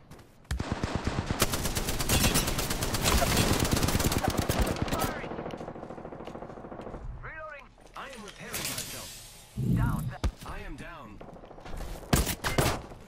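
Rapid automatic gunfire from the Apex Legends video game fills the first five seconds loud and dense, then gives way to scattered shots and effects, with players talking over it.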